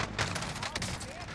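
Shotgun blasts in Call of Duty Warzone, a couple of heavy booming shots in quick succession under excited talk.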